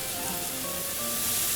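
Chicken adobo sizzles steadily in a hot pan just after soy sauce goes in, a constant close hiss and crackle with no voices.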